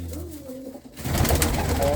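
A pigeon gives a short low coo for about a second, then a louder burst of rough broadband noise takes over.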